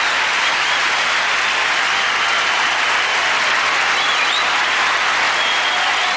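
A concert audience applauds at a tribute show to a pianist, dense sustained clapping that stays loud and even throughout.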